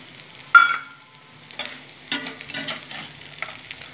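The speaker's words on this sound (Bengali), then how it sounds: "বন্ধুরা একদম আলতো হাতে আমাকে এই চিড়াটা নাড়তে হবে, নাহলে চিড়া ভেঙে যেতে পারে।" Flattened rice (chira) with cashews, raisins and nuts is stirred gently in a pan for sweet chirer polao, heard as a few soft, intermittent scraping and rustling strokes with brief quiet gaps between them, close and fairly faint.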